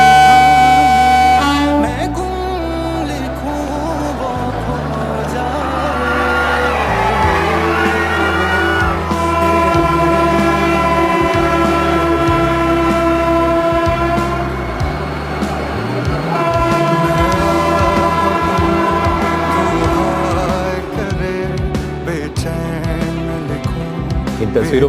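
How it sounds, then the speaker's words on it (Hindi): A Vande Bharat Express train departs at its flag-off ceremony, loud horn tones sounding repeatedly with a crowd cheering and shouting over rumbling, busy background noise throughout. "हरी झंडी दिखाकर इस वंदे भारत एक्सप्रेस को रवाना करते हुए नजर आ रहे हैं प्रधानमंत्री नरेंद्र मोदी।"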